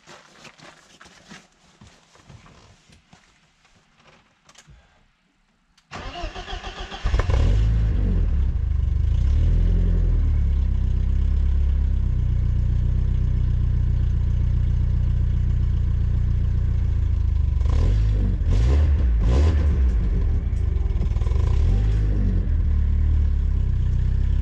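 A BMW E36 engine cold-starts around six seconds in after quiet ambient sound, then settles into a loud, steady idle with blips of revving, close to the microphone, with no talking.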